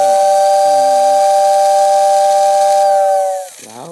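A Lionel postwar model train whistle tender blows one loud, steady, breathy whistle with an airy hiss for about three seconds, then cuts off and winds down.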